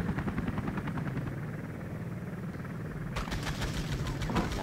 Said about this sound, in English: So this helicopter is going to get away, and in its place is going to be an attack chopper.